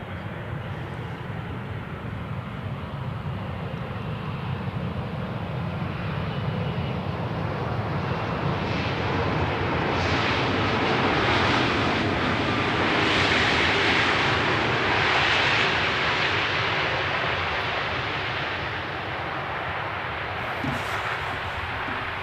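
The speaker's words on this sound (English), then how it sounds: "It's the Embraer 195 E2." An Embraer 195 E2 jet airliner arriving at Amsterdam Schiphol on runway 18R passes as a broad engine roar that builds to a peak mid-way then eases off, heard without voices.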